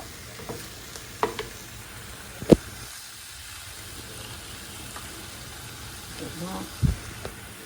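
Garlic paste being stirred into vegetables in a hot pan, a steady low sizzle with a few sharp spoon knocks against the pan, close and fairly quiet throughout.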